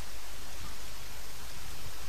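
Steady rain from the video game Zelda: Majora's Mask, a dense even hiss of falling water filling the whole stretch at constant level with no other sounds on top.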